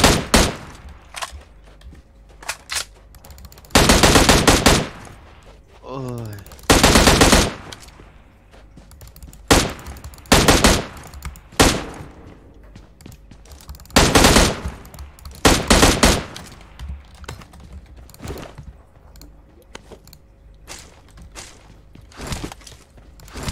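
Gunfire from a scoped weapon in the battle royale game PUBG Mobile: loud repeated bursts of shots in irregular clusters, separated by quieter gaps with faint movement sounds.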